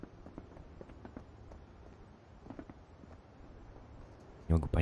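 Enemy footsteps running in the online shooter Marauders: soft, quick irregular thuds spread across a few seconds at moderate distance, with a louder burst near the end, under quiet game ambience.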